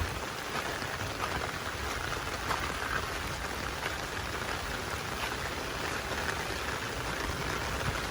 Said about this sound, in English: that pipe down there's got a steady stream coming out of it